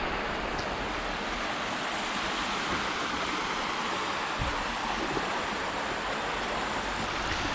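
River water pouring over a weir near Hebden, a continuous loud broadband rush with a steady roar, close and unbroken, with no voices.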